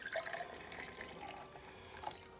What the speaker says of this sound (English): we're gonna take our milk, put it in here